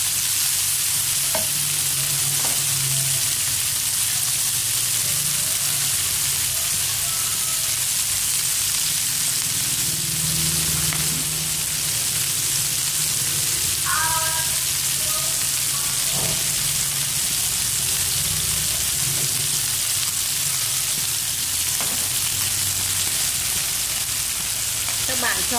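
Ginger chicken frying in a pan until golden, a loud steady sizzle and crackle throughout with occasional stirring scrapes and clinks, close and continuous.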